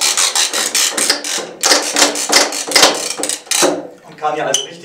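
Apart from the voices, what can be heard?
ratchet tensioner tightening polyester strapping band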